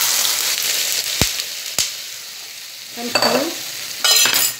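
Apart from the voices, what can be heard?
fish roe omelette frying in hot oil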